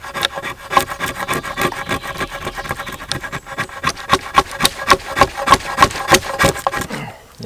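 An old cast-steel Peugeot Frères drawknife shaves wood at a bushcraft camp in a run of repeated scraping strokes that grow more rhythmic and pronounced toward the end, close and fairly loud.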